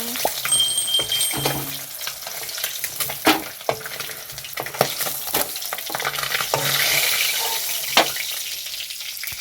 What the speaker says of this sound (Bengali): বন্ধুরা মাছগুলো ভাজা হয়ে গেছে, এবার তুলে নেব।